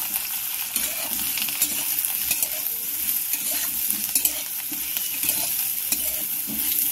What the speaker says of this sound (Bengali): একটু লাল করে আলু আর সয়াবিনটাকে ভেজে নেব।